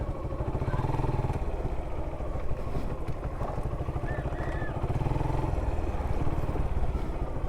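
A motorcycle creeps down a steep, slippery road, its engine putting out a steady rough rumble and clatter close up, with faint bits of voice beneath.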